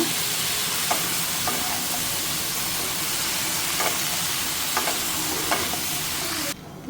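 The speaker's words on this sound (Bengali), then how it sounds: "সবজিটা আমি অনেক সময় করে কষে নিলাম" Vegetables with ground spices, salt and green chilies fry in a pan with a loud, steady sizzle, broken by a few soft scrapes of stirring, before the sound drops off at the end.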